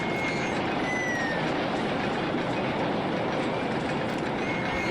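Roller coaster trains run on the Lightning Peaks ride in RollerCoaster Tycoon, a steady dense rumble and rattle with faint squeals throughout, without voices.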